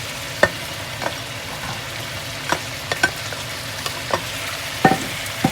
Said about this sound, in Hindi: इसको अच्छी तरह से मिक्स कर देते हैं मसाले में।